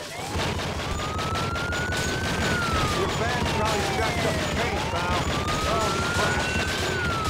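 Rapid gunfire crackles in the video game True Crime: Streets of LA over a loud wailing police siren and dense action noise, with a voice talking underneath.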